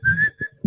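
A man preaching imitates a woman whistling, a short cheerful whistled phrase of one long rising note and a brief second tone, with murmured vocal sounds underneath.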